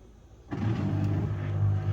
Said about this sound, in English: You hear the pump running.